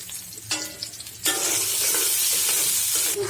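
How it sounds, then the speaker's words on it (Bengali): Garlic and onion drop into hot oil and fry, a loud, steady sizzle that swells suddenly partway through after a few softer stirring scrapes, close by. "ভেজে নিচ্ছি"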